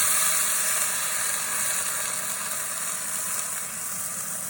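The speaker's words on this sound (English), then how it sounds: "I'm going to right now deglaze my pan with white wine." A pan of cooked garlic deglazed with white wine for pasta gives a constant bright sizzle and hiss that holds steady throughout, close and fairly loud, with no talking.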